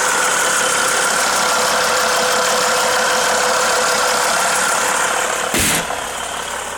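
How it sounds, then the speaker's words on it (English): A Mercedes ML270 CDI diesel engine idles with a steady, close clatter and a dense, even hum. Near the end a brief sharp noise cuts through, after which the level drops slightly. "with this sort of diesel they're a little bit noisy on start, but better as they warm up slightly"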